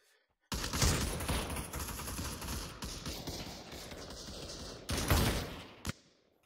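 Sustained rapid gunfire in the Pavlov VR shooter game, a dense loud burst running for several seconds, briefly easing and then flaring again before cutting off, with no talk over it.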